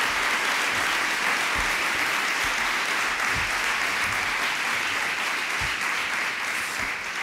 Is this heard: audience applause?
yes